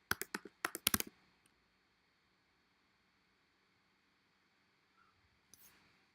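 A short quick burst of computer keyboard typing, crisp close clicks for about a second, then near silence and one faint click later.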